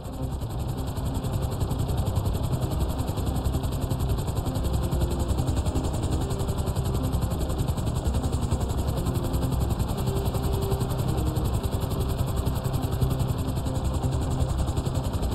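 Helicopter hovering in the GTA 5 video game, a loud steady rotor thrum with a constant engine whine that stays close and unbroken throughout, with no talk.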